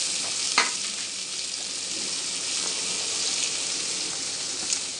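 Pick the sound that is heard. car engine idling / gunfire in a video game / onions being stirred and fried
onions being stirred and fried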